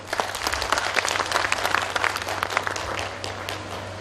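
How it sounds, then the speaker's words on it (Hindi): Steady audience applause during a lecture, a dense field of clapping from a sizable crowd that holds at even strength throughout. "रायप्पा के लिए फिर से एक बार तालियां।"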